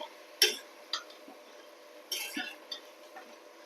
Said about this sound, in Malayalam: അങ്ങനെ ഇളക്കി കൊടുത്തിട്ട് നമ്മുടെ ഉപ്പേരി റെഡിയായി